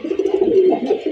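Red pigeons give a single short, warbling coo close up, a soft throaty burst that rises and falls within about a second, with no voices.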